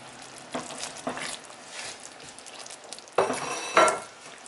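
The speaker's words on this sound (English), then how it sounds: "I'm going to take my carrots that look so beautiful, and I'm going to add them to the sauce" Sliced carrots dropped into a pan of sizzling sweet and sour sauce with kielbasa, a soft steady sizzle with stirring and utensil scrapes, then two louder splashy clatters near the end as they land.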